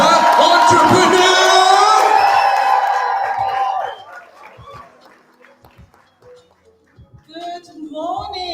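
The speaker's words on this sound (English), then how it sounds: "Give a warm round of applause to Hetty, the entrepreneur!" A workshop crowd in Kabokweni cheers, whoops and shouts loudly for an entrepreneur introduced on stage; the noisy outburst fades after about four seconds into quieter scattered voices and sounds, then rises again briefly.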